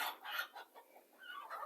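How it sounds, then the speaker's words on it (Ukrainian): Agitated clucking and squawking of chickens fighting close by, a flurry of overlapping calls with brief pauses. "Кури б'ються."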